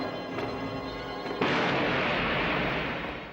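Gunfire from a silent-era film scene on a grand staircase, heard as a sudden loud burst of booming noise that sustains and slowly fades, with nothing else heard.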